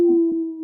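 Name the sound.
person howling in imitation of a wolf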